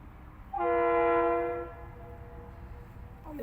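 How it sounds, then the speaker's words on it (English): KiwiRail train 932 at Lake Waihola sounds a loud sustained horn blast of about a second, then fades, leaving a low rumble of the approaching train. "It's a massive train."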